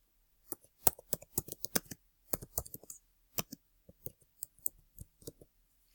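Fingers type on a computer keyboard in irregular bursts of crisp, close clicking keystrokes separated by short pauses.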